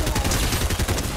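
Rapid pistol gunfire in the video game Fortnite: a quick, dense string of loud shots fired in fast succession, close and punchy, with some voice in the mix.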